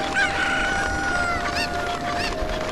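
Several chickens in The Legend of Zelda: Ocarina of Time cluck and squawk close by, one crowing over a steady electronic hum, with no talking.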